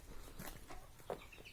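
Mother hens with newly hatched chicks on a small organic farm in western Cameroon give soft, faint clucks close by amid quiet farmyard noise.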